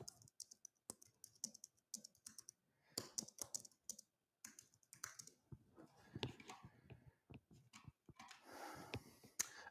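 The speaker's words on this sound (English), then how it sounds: "if I can type." Typing on a computer keyboard, close and fairly quiet, with irregular bursts of key clicks separated by brief pauses, heard alone without talk.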